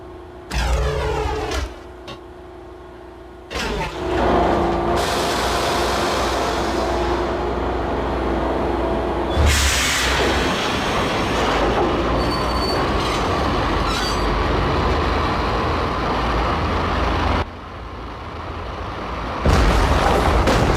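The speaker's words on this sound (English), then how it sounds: "The train lit up like a Christmas tree. The power was back on." Train in the video game Max Payne powering on and starting to run, loud clanks and booms followed by a rising mechanical roar, rumbling wheels and squealing metal on rails, steady and close.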